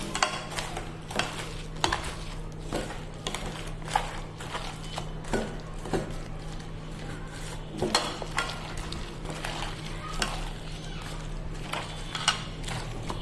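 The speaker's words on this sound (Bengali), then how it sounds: "এই চিংড়ি মাছটা দিয়ে দিলাম তো আমি এখন ভালো করে এটাকে মেখে নেবো" Taro mash with prawns and green chilli is kneaded by hand into a fritter mixture, giving close, irregular wet squelches and soft clicks over a low steady hum.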